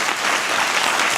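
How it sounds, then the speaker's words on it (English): A tech meetup audience claps in a short, dense burst of applause, loud and continuous for just over a second. "just clap it up to everybody up here."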